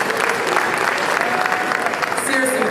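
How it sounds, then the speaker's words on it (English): A festival crowd at an Africa Day celebration in Houston gives a loud, dense burst of applause for the sponsors, clapping continuously with a few voices and whoops mixed in. "Can we give a round of applause to our sponsors again"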